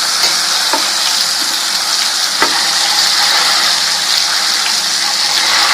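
Food sizzles steadily in a hot pan after being flipped, a dense continuous frying hiss with a few small pops and clicks and no talking.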